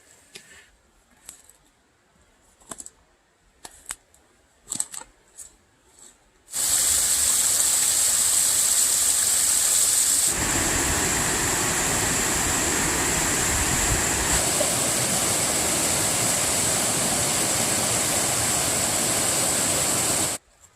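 After a few soft clicks and rustles, loud flowing water from a small creek crossing a trail in the Smoky Mountains rushes in suddenly and keeps up a steady, close, full roar to the end.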